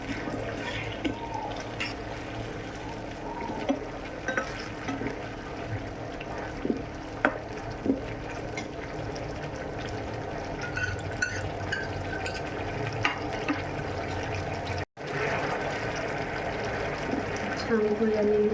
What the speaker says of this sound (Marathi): छान उकळी आलेली आहे